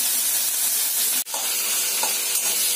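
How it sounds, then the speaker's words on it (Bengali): Rohu fish fries in a pan over a lowered gas flame, a dense, steady hiss of sizzling oil close by, broken once by a brief sharp dropout and a faint clink. "মাছের অতক্ষণ ভাজা হোক"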